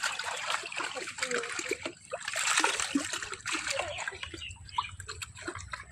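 Freshly caught rohu fish are washed outdoors, water splashing and sloshing in uneven bursts close by, with a voice talking over part of it.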